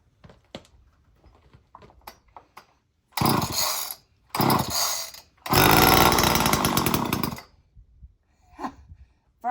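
A very tiny chainsaw being cold-started at season's start: a few quiet pull-cord tugs, then three loud, rough engine bursts that sputter and cut out, the last one running longest before a couple of faint final pulls.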